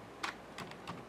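Three quick, close keystrokes on a computer keyboard, typing an AT command to configure an HC-05 Bluetooth module, crisp and isolated in a quiet room.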